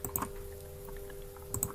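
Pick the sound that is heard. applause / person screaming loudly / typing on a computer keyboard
typing on a computer keyboard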